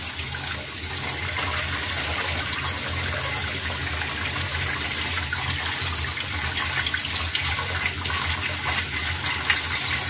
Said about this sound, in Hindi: अच्छे से धोना है ताकि इनका जो भी इनमें मिट्टी वगैरह है वो सब निकल जाए